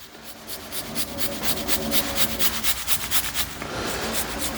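Fresh garlic cloves rubbed against a grater for a chicken marinade, giving a steady run of close, rhythmic scraping strokes that repeat several times a second with no talking.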